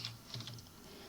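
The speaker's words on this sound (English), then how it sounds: "you simply type tar tvf" A tar command being tapped out on a computer keyboard, a quick burst of a few soft, close keystrokes over quiet room noise.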